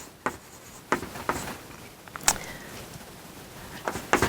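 Chalk or marker strokes on a board during a physics lecture on dark matter kinematics, a series of short scratchy taps and scrapes spaced irregularly, moderately close in a quiet room.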